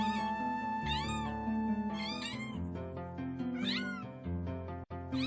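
Several kittens meow repeatedly in high, rising-and-falling cries, close and loud, overlapping one another with a brief pause near the end.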